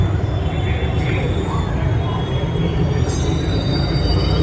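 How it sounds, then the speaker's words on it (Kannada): A Delhi Metro train pulls into Rajiv Chowk station with a loud, continuous rumble and high squealing wheels on the rails, heard up close on the platform. "ಸೊ ಫೈನಲಿ ನಮ್ಮ ಮೆಟ್ರೋ ಬಂದೇ ಬಿಟ್ವಿ."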